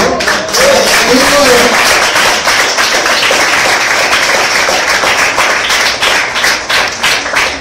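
A church congregation applauding loudly and steadily, with dense clapping filling the space throughout. A voice speaks or calls out briefly near the start over the clapping.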